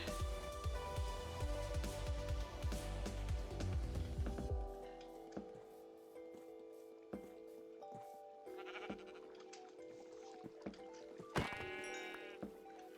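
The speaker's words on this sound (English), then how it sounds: "sheep over there." Sheep bleat repeatedly in a Minecraft hardcore game, the calls standing clear over soft game sounds and scattered clicks and thuds, with no talking heard.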